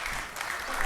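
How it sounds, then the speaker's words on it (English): An audience claps and cheers, a short burst of applause from a crowd under some speech. "Started clapping."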